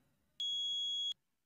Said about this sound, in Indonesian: buzzer yang dikombinasikan dengan modul ini akan mengeluarkan bunyi beep sesaat ketika